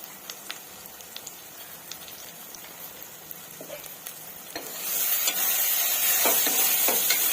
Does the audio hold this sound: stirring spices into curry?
yes